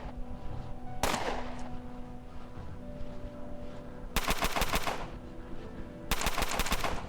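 Three bursts of gunfire in the game Underrail, first a single sharp shot, then two longer rapid bursts of several rounds each, loud against a quiet humming background, with no talking.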